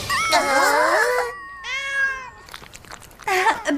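Cartoon cat meows in a French-dubbed anime, a few bright, sweeping cries loud and up close, with one long drawn-out call in the middle and a short pause of quieter rustle before the final meow.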